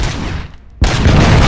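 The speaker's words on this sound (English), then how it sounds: "I wonder if we shoot the actual explosive" Video game gunfire aimed at an explosive, heard as loud sustained blasts that cut out briefly and then return as a dense, heavy roar, with no talk.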